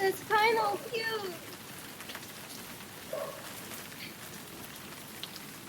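Steady light rain falls outdoors on a street, a soft continuous patter that continues after a short bit of speech at the start.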